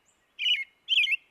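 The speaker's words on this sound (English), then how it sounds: "What do we know about robins? They're singing now, they're noisy, they make lots of song." An American robin sings in a suburban yard, giving two short bright warbled phrases a moment apart, clear and fairly close against a quiet background.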